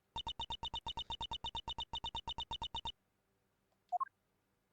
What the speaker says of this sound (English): Mine also is ringing. Everyone's phones are ringing.